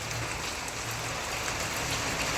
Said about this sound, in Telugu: మనం వర్షం ఎక్కువైపోయింది